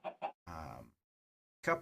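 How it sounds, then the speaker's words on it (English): Chickens in the video game Minecraft cluck in two short bursts followed by a longer squawk, then a final cluck after a brief silence, close and clear with no talking. "I got a couple of chickens to follow me"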